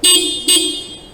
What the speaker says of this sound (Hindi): हॉर्न आप सुन सकते हो